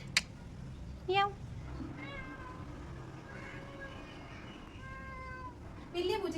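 A pregnant cat gives several drawn-out meows, fairly close. A person talks nearby and also imitates a meow.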